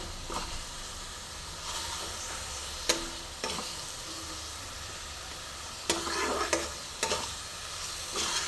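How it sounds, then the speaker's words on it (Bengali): Spice masala with red chilli powder frying in a pan over a medium flame: a constant soft sizzle broken by sharp scraping strokes of a spoon, close and without talk. "এবার আমি মশলাটা ভালো করে কষে নেব"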